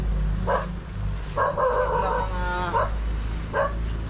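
Nearby dog barking in short bursts: a single bark, then a longer run of yelping barks, then another single bark, over a low engine drone.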